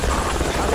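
A helicopter in the military video game Project Reality gives a loud, steady rotor and engine roar that fills the whole short moment, close and continuous.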